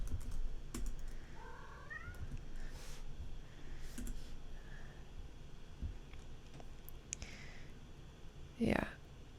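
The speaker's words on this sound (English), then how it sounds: "Oh, my cat is crying right now." A pet cat cries with a few faint, rising meows in the background of a room, mixed with soft computer keyboard typing and a louder brief sound near the end.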